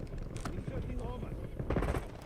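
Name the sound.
gunfire in the video game Call of Duty: Black Ops 7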